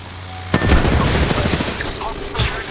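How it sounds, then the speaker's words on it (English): A frag grenade thrown and bursting in a video game: a sharp boom lands early, followed by a rumbling tail and scattered impacts, with a synthetic voice speaking around it. "Throwing frag."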